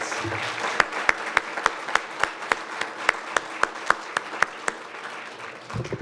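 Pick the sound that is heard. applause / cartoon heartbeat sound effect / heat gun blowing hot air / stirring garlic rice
applause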